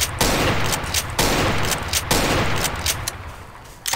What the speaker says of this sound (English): we're gonna test out the shotgun.